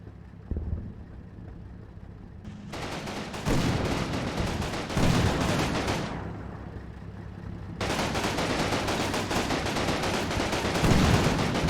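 Machine-gun fire in the PC game Combat Mission Normandy, in long loud bursts with short lulls, layered over a low rumble of battle in the Normandy countryside, with no talking.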